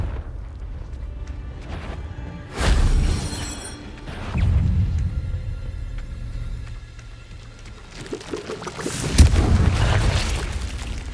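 Heavy booming blasts of the Confringo fire spell in the Hogwarts Legacy video game erupt several times, each a loud rumbling burst that fades into a low game soundscape, without talk.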